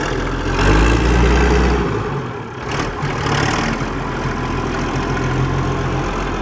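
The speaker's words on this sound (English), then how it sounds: "old tractor spends its life ticking over" An old tractor engine idles steadily at a drilling site, a low continuous ticking-over rumble that holds close and loud throughout with no voices.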